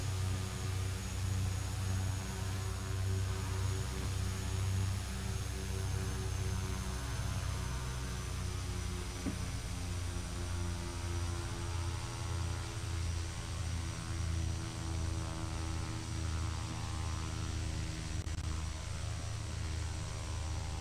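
Twin turboprop engines of a King Air 200 running on the ground, a steady, loud, droning hum with layered tonal whine that holds constant for about twenty seconds with no talk.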